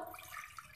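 A glass of water is poured into a saucepan set on a stovetop to make fennel tea, giving a brief, steady splashing gush.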